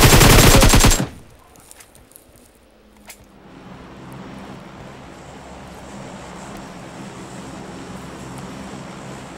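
Gunfire in the mobile battle-royale game PUBG Mobile sounds as a loud rapid automatic burst lasting about a second. A lone faint shot follows, then a low windy ambient hum.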